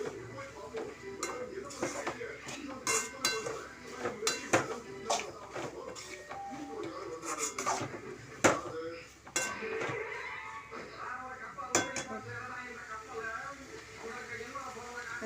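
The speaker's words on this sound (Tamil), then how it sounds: "நல்லா ஃப்ளேமை ஹை ஃப்ளேமாக வச்சுக்கிட்டு நல்லா கிண்டுங்க." Boiled squid being stirred in a pan over a high flame for a gravy produces repeated metal clinks and scraping clatter from the utensil, heard under a person talking.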